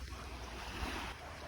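Seashore surf at low tide off Polillo Island, a steady low rush of waves with wind buffeting the microphone, no voices.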